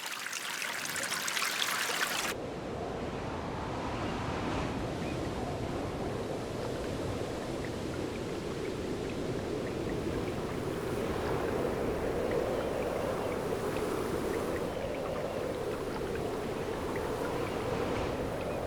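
Arctic spring meltwater trickles and runs in a steady, soft wash of flowing water, continuous and moderately distant, with no voices.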